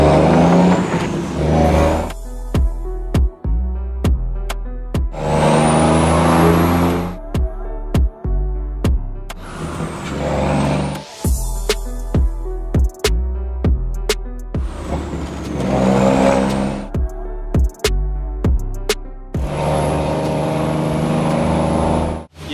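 A Shacman F3000 tractor trailer with a Cummins ISM 420 engine, 12-speed transmission and custom muffler revs loud and close in repeated surges, separated by short sharp bursts that may be air brake releases.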